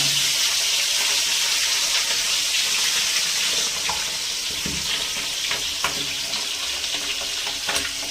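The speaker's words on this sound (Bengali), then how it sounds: "মাছের মাথাগুলো লাল করে ভেজে নিতে হবে।" Large catla fish heads fry in oil, a close steady sizzle with scattered pops and a soft stirring scrape, no voices.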